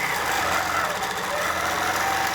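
A sewing machine stitches fabric strips together at a quilting workshop, its motor giving a steady, continuous whir throughout while a person talks over it.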